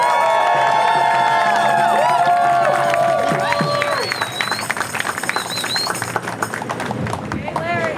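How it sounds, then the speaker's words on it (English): A protest crowd in San Diego cheers and applauds over ongoing talk and voices, with scattered sharp claps that grow denser and steady through the second half. "Let's give him one more round of applause"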